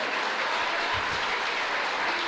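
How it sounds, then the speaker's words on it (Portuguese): A church congregation bursts into applause during a Sunday service, a thick, even roar of many hands clapping together, loud and sustained for a couple of seconds with no speech over it. "Você pode aplaudir o Senhor por isso?"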